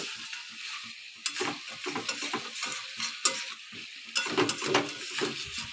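Goat head pieces cooking in a pan with chopped papaya, an uneven sizzle broken by frequent scraping stirs and metal clatter of a spoon against the pan, close and fairly quiet, with no speech.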